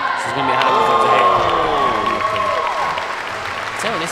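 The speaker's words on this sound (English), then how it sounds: "Now the crowd's really appreciating that." A crowd at a bouldering and lead climbing final in Melbourne applauds and cheers steadily and loudly for a climber, with scattered whoops rising over the clapping.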